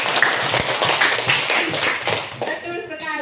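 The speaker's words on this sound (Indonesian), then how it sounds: "Tepuk tangan untuk Jini." Students in a classroom clap for a classmate, with scattered uneven hand claps under a murmur of voices, and a teacher talks as the clapping trails off.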